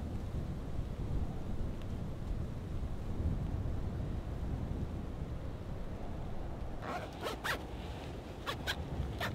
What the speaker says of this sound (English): Too windy to get out right now.